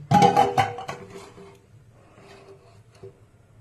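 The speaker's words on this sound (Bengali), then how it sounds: "কভার করে এটাকে আমি গ্যাসের উপর বসিয়ে দিচ্ছি" A lidded metal pot set down on a gas stove: a few sharp clanks and rattles up front, then quieter scraping and a faint knock as it settles.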